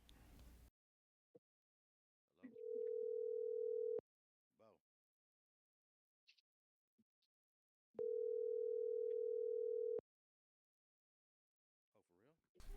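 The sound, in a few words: telephone dial tone while calling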